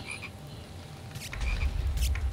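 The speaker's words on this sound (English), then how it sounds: "The scorpions make freaking frog noises." Scorpions in the Minecraft Crazy Craft modpack give off frog-like croaks, a few sharp bursts over a murmuring game backdrop that swells into a low rumble partway through.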